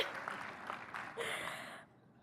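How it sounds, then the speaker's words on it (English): Applause rises from the crowd at the UMass Chan commencement ceremony, moderately loud and brisk, then cuts off abruptly near the end. "Yeah, round of applause for that."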